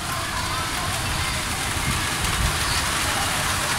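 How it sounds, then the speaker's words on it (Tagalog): Heavy rain pouring down on a pigeon loft, a dense, loud, continuous hiss and drumming of drops on the roof, steady throughout with a voice faintly underneath. "Biglang bumuhos yung ulan."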